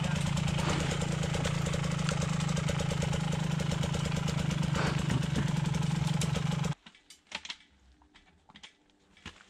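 A Minsk X250 enduro motorcycle engine runs loud and close with a steady rough drone, then cuts off abruptly, leaving only faint knocks and rustles.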